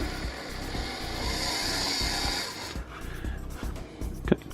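A Lima Class 73 OO gauge model locomotive sits on a servicing bench with its motor spinning, giving a steady, fairly quiet whirring hum that cuts off partway through, followed by faint handling noises and a small clack.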